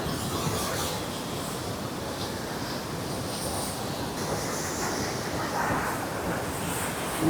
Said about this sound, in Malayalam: എന്താണ് വെള്ളച്ചാട്ടത്തിന്റെ ഉള്ളിലൂടെയാണ് നമ്മൾ കടന്നു പോണത്